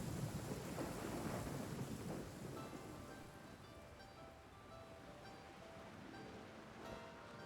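Rain and rolling thunder from the video game Genshin Impact: a low distant rumble swells early, then steady rain hiss continues faintly with no voices.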